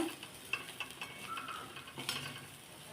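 Leftover chapati chivda is stirred with sugar in a pan, making faint scraping and rustling with light taps and a low sizzle underneath. It sounds quiet and close.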